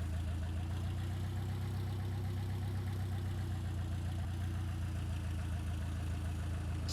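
A rocket engine in Kerbal Space Program runs on reverse thrust, giving a steady, loud low rumble with a throbbing mechanical drone that holds evenly throughout without a break.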